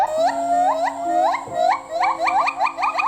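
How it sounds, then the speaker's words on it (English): A silvery gibbon calls in a quick series of short, rising, whistle-like hoots that speed up into a rapid bubbling sequence, loud and close, with a faint steady tone underneath. "Silvery gibbon."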